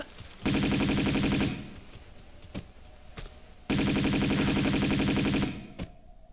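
Two sustained bursts of rapid Uzi gunfire from Tomb Raider II Remastered, each lasting about a second and a half, loud and close, with a few quieter single shots between them.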